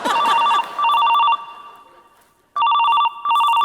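A telephone rings loudly in repeated electronic trill bursts, two rings, a pause, then two more, with no talk over it, in a comedy sketch scene.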